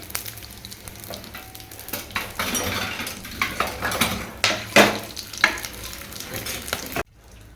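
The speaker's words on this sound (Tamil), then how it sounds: "இதெல்லாம் போட்டு மொத்தமாக ஃப்ரை பண்ண போகிறீங்க இல்லைங்களா?" Grated coconut frying in a pan with cloves and cardamom, loud steady sizzle with repeated scrapes and clinks of a stirring spoon, close up, ending abruptly.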